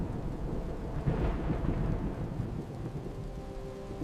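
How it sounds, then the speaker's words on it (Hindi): A fierce thunderstorm with rolling thunder over steady heavy rain, a loud continuous wash of low rumble and hiss that swells slightly around the middle, with no voices. "इस भयंकर आंधी और वर्षा में मैं आपको नमन करता हूँ।"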